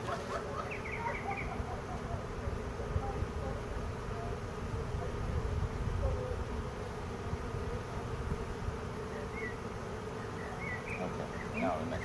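Honeybees buzz around an open hive during an inspection, a steady, close drone of many wings with occasional chirps of birds in the background and people speaking quietly.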